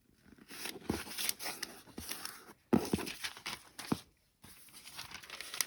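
A sheet of thin dictionary paper is handled up close for a junk journal, with soft crinkles, rustles and a few sharper crackles in uneven bursts, separated by short quiet gaps.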